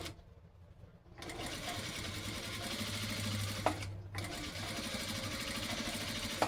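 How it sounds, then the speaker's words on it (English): A sewing machine runs steadily for several seconds, back stitching a seam with a continuous mechanical whir and brief pauses, close and alone with no talking. "And then I back stitch, leaving about 3 inches, I think, to turn."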